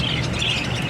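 Pet budgerigars chirp and twitter in a quick, busy chatter, several birds close by over a steady background hum.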